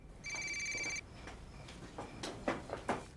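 A mobile phone rings indoors, a steady electronic tone lasting about a second, followed by faint rustling and handling noises with no talk.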